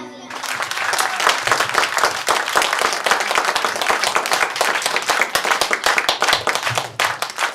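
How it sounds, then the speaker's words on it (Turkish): Audience applause at a Tatar-language stage concert review, loud dense clapping from a sizeable crowd that fills the whole stretch steadily without letting up. "güçlü alkışlar"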